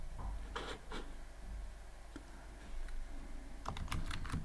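Clicks of typing on a computer keyboard while coding in Python come in short scattered bursts, close and fairly soft, with a quick flurry of keystrokes near the end.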